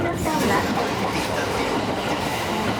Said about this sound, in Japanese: 南小谷行きワンマン列車です